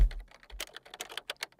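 Rapid keystrokes on a computer keyboard, a quick burst of a dozen or so crisp clicks in uneven rhythm, close and fairly quiet, following a soft thump at the start.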